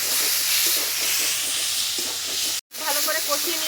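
Spice paste sizzles and hisses in hot oil with two or three bay leaves added, a continuous close frying sizzle with a momentary break and then stirring clatter as the paste is moved around.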